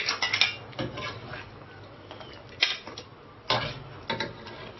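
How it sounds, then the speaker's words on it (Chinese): Blanched beef bones are scooped out of a pot and rinsed in cold water, giving a handful of close, sharp clinks and clatters of utensils and bones at irregular intervals. "把它捞出来过凉水"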